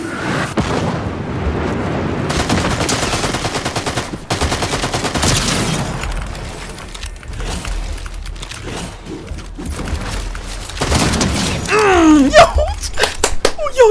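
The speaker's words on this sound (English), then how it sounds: "Yo, this shotgun is actually crazy, bro." Rapid shotgun blasts and gunfire ring out during a Fortnite match, loud and dense, with explosive bursts layered over constant game effects and a player talking at times.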